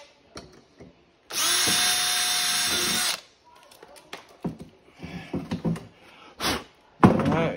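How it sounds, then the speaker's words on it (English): A power drill drives a screw through a back plate in one loud, steady whir of nearly two seconds, close by. Lighter clicks, knocks and handling noises follow in the quiet afterward. "You wanna go through, you want your screw to go through that back plate."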